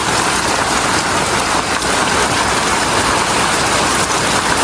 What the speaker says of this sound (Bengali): আজকে এখনও বৃষ্টি পড়তেছে কোনো থামাথামি নাই